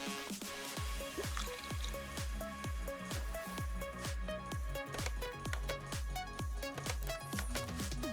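Fluid drains from a car with a drain tool in the Car Mechanic Simulator video game, heard as a steady run of close, regular drips and squishy plops over a constant liquid trickle, with no talk.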